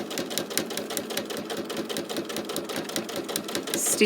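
A sewing machine stitches down a zippy pouch in steady rapid bursts of needle clatter, running continuously at close range with no voices.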